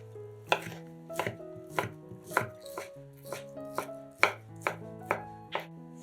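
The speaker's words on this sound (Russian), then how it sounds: "Вареную куриную грудку нарезаем небольшими кубиками." A knife chops boiled chicken breast into small cubes on a board, with about ten crisp, fairly evenly spaced strikes at a steady rhythm and no talking.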